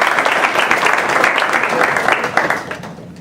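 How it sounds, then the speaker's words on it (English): Steady, fairly loud audience applause filling a room, sustained clapping with no break that fades slightly at the very end. "Let's give him a nice round of applause."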